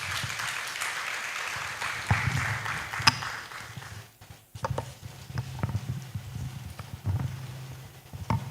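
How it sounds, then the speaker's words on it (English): An audience at a formal health-survey report event applauds to welcome a speaker: a sustained wash of clapping from a crowd that fades, then picks up again with scattered claps. "Please let's welcome her with a round of applause."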